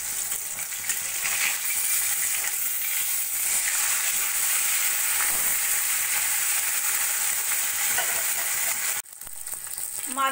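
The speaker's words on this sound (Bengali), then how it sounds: "কড়াইতে তেল গরম বসিয়ে দিয়েছি, এবার মাছগুলো আমি একে একে ভেজে নেব।" Pieces of rui fish fry in hot oil in a kadai, giving a steady, loud, close broadband sizzle that keeps going without pause, with a brief drop near the end.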